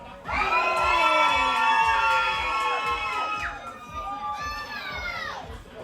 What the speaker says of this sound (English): I'm going to be the judge of how loud you scream